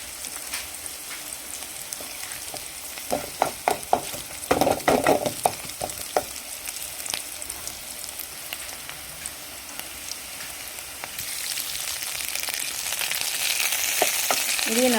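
Onions and curry leaves sautéing in a pan for semolina upma, a steady close frying sizzle with scattered crackles and stirring scrapes, growing slightly louder toward the end, with no talk.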